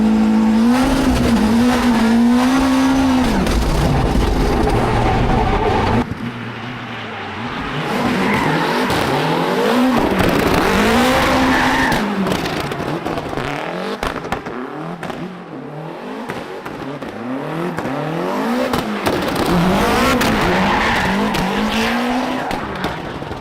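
A Voodoo-engined Mustang drifts hard, its tires squealing in long wavering howls over a roaring, revving engine, loud and continuous with surges and brief dips as the car slides through repeated passes.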